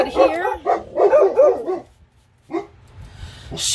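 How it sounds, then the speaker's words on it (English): A dog barks and yips several times in quick succession, close by, then a softer whimper-like sound follows after a short pause. "I apologize for my dogs."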